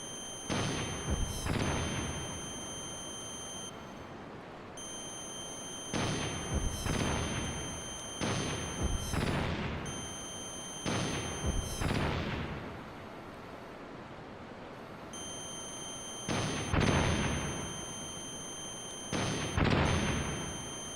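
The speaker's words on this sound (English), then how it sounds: "Properly wasteful shooting." Gunfire in the video game Metal Gear Solid, several clusters of booming shots with echoing tails, spaced apart by short pauses over a steady high electronic tone, fairly loud with no talking.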